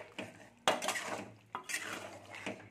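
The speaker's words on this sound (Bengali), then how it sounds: "ডিমগুলো দিয়ে একটু ঘেঁটে দিচ্ছি" Eggs stirred into cooking potatoes in a pan, a few distinct scraping spatula strokes against the pan with faint sizzling between them, close and fairly quiet.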